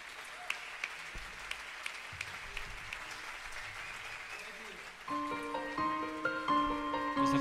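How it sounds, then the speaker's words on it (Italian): Audience applause at a live concert in an auditorium, a steady wash of clapping that gives way to band instruments starting to play over it. "un applauso speciale andrebbe a lui"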